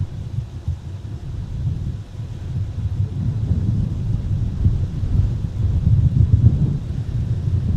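Southwest Airlines jet taking off on runway 30 left at Minneapolis–Saint Paul airport in winter, a steady deep rumbling roar that builds slightly louder over several seconds, with no talk.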